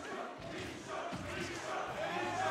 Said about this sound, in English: The crowd is chanting that he shook.